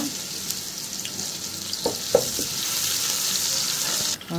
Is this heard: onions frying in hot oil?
yes